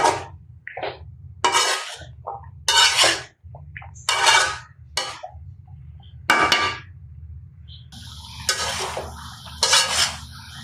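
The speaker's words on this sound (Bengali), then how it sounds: "তরকারিটা ভালো করে কষিয়ে নিচ্ছি" A spatula scrapes and stirs a curry of flat beans, potatoes, small fish and spices in a pan, sounding as loud, gritty bursts of strokes separated by short pauses, ending in a longer run of scraping.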